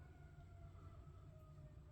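Sirens wail outside, a faint, distant rising and falling tone drifting over a low rumbling background.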